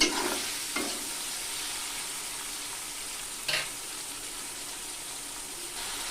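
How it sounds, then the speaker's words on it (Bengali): Prawns frying in a pan, a steady close sizzle with a few brief louder bursts of spattering, no voices. "চিংড়ি মাছটাকে আমার মোটামুটি ভেজে নেওয়া হয়েছে"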